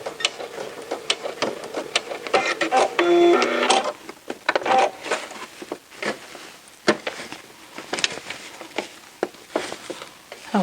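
A sewing machine back stitches the waistband of cropped pants in short, uneven mechanical bursts with ratcheting clicks and handling noises, close up and fairly loud.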